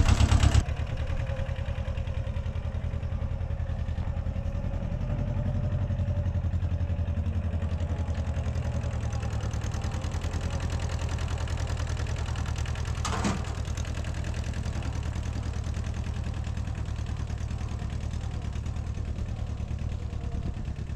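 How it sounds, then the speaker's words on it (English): A tractor engine runs steadily at an off-grid stone barn in central Portugal, a continuous low mechanical drone with light clatter holding at an even level for the whole stretch, close by and with no talk. "having a tractor is very handy"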